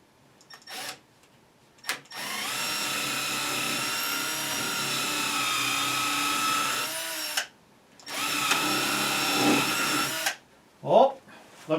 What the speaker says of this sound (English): So what I'm going to do is put a screw in here, here, and here.